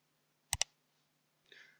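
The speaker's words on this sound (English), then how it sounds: "then I choose my dimension style and click in Modify" Two sharp computer mouse clicks land close together while working in AutoCAD, followed a moment later by a brief, softer rustling noise; no one speaks.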